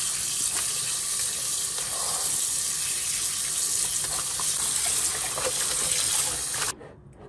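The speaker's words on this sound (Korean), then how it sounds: "요렇게 다 떼냈으면 깨끗이 씻어 주시고요" Napa cabbage leaves rinsed under a running kitchen tap make a steady, loud gush of water with faint splashing, lasting several seconds before the flow cuts off abruptly near the end.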